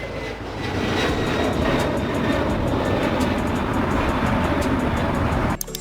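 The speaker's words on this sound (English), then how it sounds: "Cargo jet. A jet aircraft designed or modified to transport goods and cargo instead of passengers." A cargo jet flying, a steady loud broadband engine roar that holds evenly for several seconds before cutting off abruptly.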